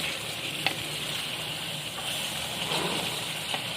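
Mutton karahi with tomatoes sizzles in the pan with a steady, close frying hiss and soft bubbling. A few faint stirring clicks sit under it, with no talk.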